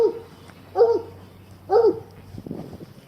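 An ornery old pet dog named Dog gives two distinct, fairly close woofs about a second apart, followed by a softer rustling scuffle, with no one speaking.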